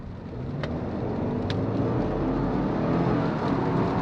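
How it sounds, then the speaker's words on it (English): Turbocharged 2.4-litre Subaru WRX GT tS wagon accelerating under boost on a rainy night road, a steady loud engine drone from inside the cabin with faint brief whooshes, no talk. "you can hear some of the turbo noise as well once you get the turbo to kick in"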